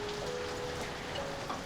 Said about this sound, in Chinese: 这雨下多久了？